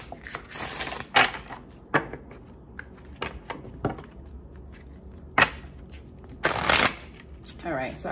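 Tarot cards are shuffled in a few short, crisp riffling bursts close by, separated by lighter handling taps, while a person talks between them.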